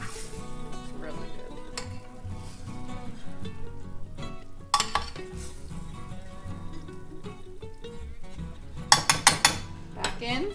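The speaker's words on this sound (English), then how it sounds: "I'm gonna stir the onions on the side" Onions being stirred in a pan, with scraping and clinking of the utensil against the metal and faint sizzling, punctuated by a few sharp knocks and a quick burst of clatter near the end.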